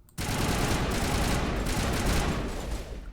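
Sustained burst of gunfire from the video game Mass Effect 1, a dense, loud continuous volley starting abruptly after a brief silence and holding steady for about three seconds, with no talk over it.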